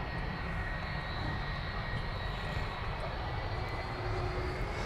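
A continuous low roar and whine of Emirates A380 jet engines at Manchester Airport as the airliner readies to taxi, steady and moderately distant with no speech over it.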